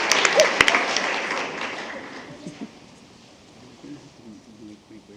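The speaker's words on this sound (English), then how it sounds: "One more round of applause for the La Quinta Middle School Bulldogs." Applause from an audience at a school board meeting, honoring a middle school group, starts loud with scattered sharp claps and fades out over a few seconds into quieter room noise.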